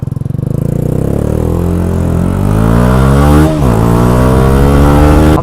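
A Yamaha YZF-R125 motorcycle engine runs loud and close, idling with a throbbing pulse, then revving up and dropping back in a rising and falling whine.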